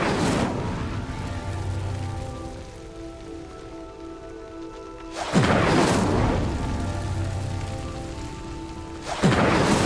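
The Incendio fire spell is cast in the video game Hogwarts Legacy, with two loud whooshing bursts landing several seconds apart over a steady crackling hiss and soft background music.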